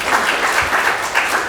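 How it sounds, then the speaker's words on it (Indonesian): Church congregation clapping for God during a sermon, a steady wash of applause filling the whole moment at close range with no talk over it. "Kasih tepuk tangan untuk Tuhan."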